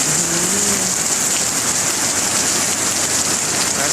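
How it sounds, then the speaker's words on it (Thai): Heavy rain pours down in Bangkok during a storm, a dense, even roar of drops hitting surfaces that holds steady and loud throughout, with no voices over it. "บอกว่าฝนตกหนักทั้งฝนทั้งลมพี่น้อง"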